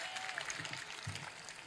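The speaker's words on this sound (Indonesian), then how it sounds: "tepuk tangan." An Indonesian public gathering breaks into faint, distant applause and crowd noise, soft clapping running throughout with some murmuring voices underneath.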